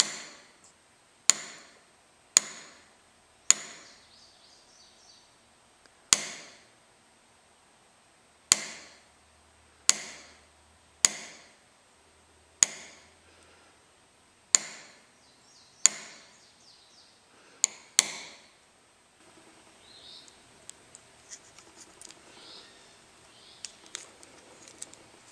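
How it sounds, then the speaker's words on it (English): A needlepoint punch is tapped to transfer a design onto a copper ferrule for a seax, giving a dozen or so sharp, close metallic taps at irregular intervals, each ringing briefly before fading, with quieter scraping near the end. "The design is then transferred to the ferrule using a needlepoint punch."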